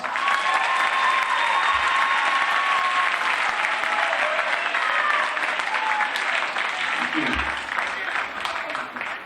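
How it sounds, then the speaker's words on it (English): Audience applause at a middle school winter instrumental concert welcomes the jazz band, dense sustained clapping from a full room, loud and even for about nine seconds before tapering slightly. "Let's give them a round of applause."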